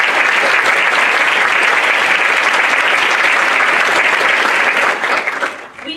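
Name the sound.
audience applause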